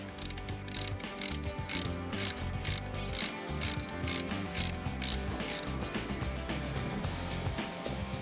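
Ratcheting tool loosening a bicycle bell hub, producing a rapid, steady clicking that runs continuously, close and fairly quiet.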